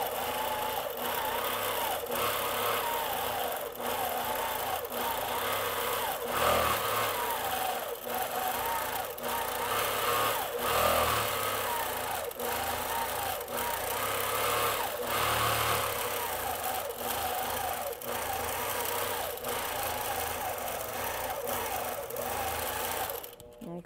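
A sewing machine quilting a curled feather design runs in a loud, steady, fast mechanical chatter. It slows and pauses briefly several times, close up and continuous throughout.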